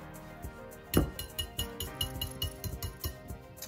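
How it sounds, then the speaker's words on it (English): A utensil clinks and scrapes against a bowl while cornbread batter with sugar and shredded cheese is stirred, a steady run of sharp taps and knocks, close and fairly quiet, with no talking. "Now with that, we're just gonna mix it up."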